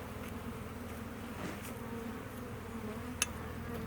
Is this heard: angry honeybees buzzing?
yes